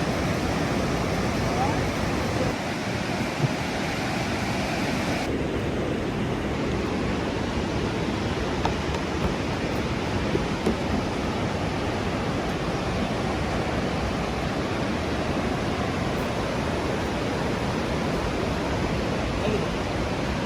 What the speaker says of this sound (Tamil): பின்னாடி தெரியுதா நயக்ரா ஃபால்ஸில் விழுற தண்ணி அப்படியே பின்னாடி அப்படி ஓடுது அவ்வளோ ஸ்பீடா.